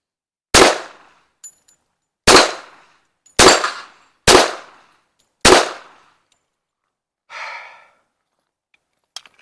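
A 1911 pistol fires five loud, close gunshots in a steady string, each with a short decaying tail, followed by a faint rattle and a small click.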